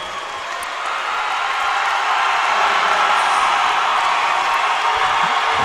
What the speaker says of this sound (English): they get a round of applause from their crowd.